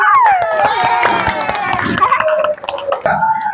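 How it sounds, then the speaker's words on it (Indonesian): Classroom students clap together, quick scattered claps mixed with excited children's voices shouting and chattering loudly over them, dropping briefly before picking up again. "Beri tepuk tangan yang meriah"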